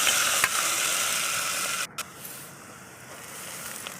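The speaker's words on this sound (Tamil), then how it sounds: "வெங்காயம் பச்சை மிளகா அதையும் நல்லா கிண்டி விட்டுக்கலாம்." Onion and green chili stirred in hot oil for a mushroom biryani, a steady broadband sizzle with light stirring scrapes, dropping quieter after a brief gap midway and continuing softer to the end.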